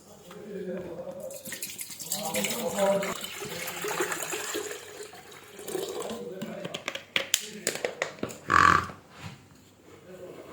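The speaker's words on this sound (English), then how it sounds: "Now I will fill water." Tap water runs into an electric kettle under repair for not turning on or heating, a rushing, splashing pour with drips that swells near the end, while voices murmur in the background.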